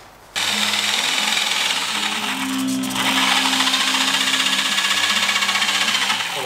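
A power tool cuts sheet metal for radiator air ducting in a garage, producing a loud, continuous grinding whir with a steady buzzing tone that shifts slightly partway through.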